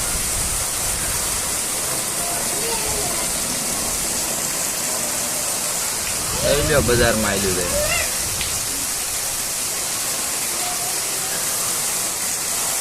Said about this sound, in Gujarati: બહાર નીકળે એમ નથી વરસાદ છે બહુ